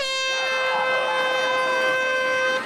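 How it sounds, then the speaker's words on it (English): A champion horn blares at a rodeo chuckwagon race, one loud, sustained, steady tone with rich overtones that holds for several seconds. "There's the sound of the Nolco champion horn."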